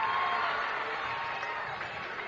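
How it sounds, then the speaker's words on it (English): Crowd cheering in a gym at a high school basketball game on senior night, a steady wash of voices and clapping that fades slightly over a couple of seconds, with no talk. "That'll draw a cheer from the crowd"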